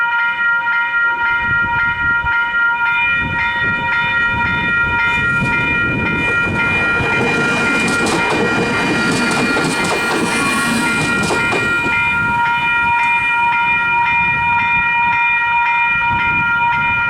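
A train rolls through a newly upgraded level crossing with pedestrian gates while steady electronic crossing bells ring throughout, the rumble and clatter of the wagons swelling loud and close mid-pass and then easing off.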